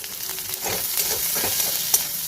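Vegetables and eggs frying in a pan, seasoned with salt and turmeric, give a steady, close sizzle with soft stirring scrapes running throughout.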